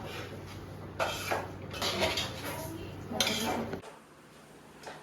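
Hot modak dough mixture stirred in a metal pot, with clattering spoon-on-pot scrapes in bursts, then a quieter pause at the end.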